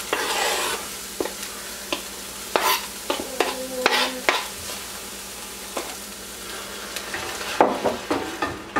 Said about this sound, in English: So I'm just putting in some onions.